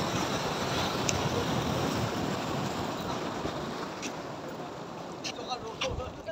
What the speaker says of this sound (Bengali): খুব সুন্দর হাওয়া দিচ্ছে, রোদ থাকুক কিন্তু বেশ ভালো হাওয়া দিচ্ছে।